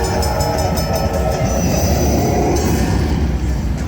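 Train sound effect from the Dragon Train slot game: a loud rumbling, clattering rail noise with a brief horn-like tone, continuous for a few seconds without speech.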